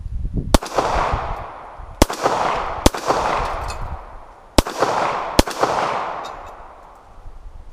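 Five sharp 9mm shots from a Star BM handgun fired one-handed at an outdoor range, loud and spaced unevenly, each crack followed by a long rolling echo.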